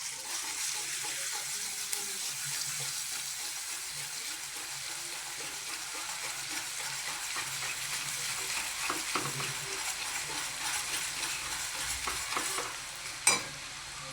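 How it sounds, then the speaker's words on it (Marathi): Ginger-garlic paste fries in hot oil for a Mumbai-style pav bhaji, a steady broad sizzle with occasional stirring scrapes running throughout, ending in one sharp knock near the close. "तेल गरम झालेलं आहे आणि आपण टाकूया अद्रक लसणाची पेस्ट"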